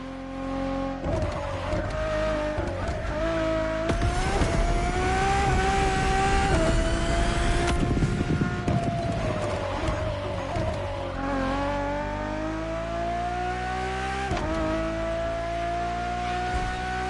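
Ferrari road-legal Formula One–style hypercar in The Crew Motorfest, its engine revving loudly and continuously with rising and falling pitch through gear changes, alone with no talk.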